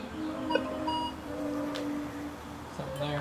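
Metal detector beeping while sweeping ground for a buried object, short electronic tones and a sustained steady hum over faint outdoor background.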